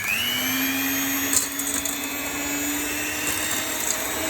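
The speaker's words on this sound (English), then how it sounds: "I'm going to grab my electric whisk. I'm just going to whisk these 2 ingredients together until they make a light mousse" Electric hand whisk beating two brownie ingredients into a light mousse in a mixing bowl, a steady close motor whine held at one pitch with no talk.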